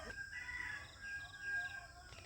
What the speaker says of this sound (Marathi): मस्त कोंबड्यांचे आवाज येतात